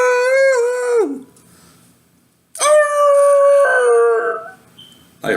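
A voice imitates a werewolf howling in two long, loud, wavering howls, the first falling away after about a second and the second held longer with a sliding pitch, separated by a short silence.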